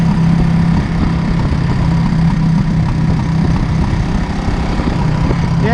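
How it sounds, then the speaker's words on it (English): A vintage motorcycle engine idles steadily up close, a low, even rumble with slight uneven pops from running lean, running alone without any talk. "it pops a little lean pop when it let off the exhaust."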